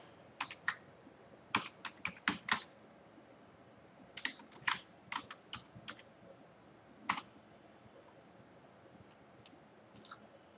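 Password being typed on a computer keyboard while filling out an online recruitment form: bursts of crisp, close key clicks in quick clusters, separated by short pauses, with no talking.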